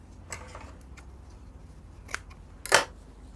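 Scissors snip through excess sewing ribbon while making a sleeve, giving a couple of faint clicks followed by one sharper, louder cut near the end, all set against a quiet room with no talk.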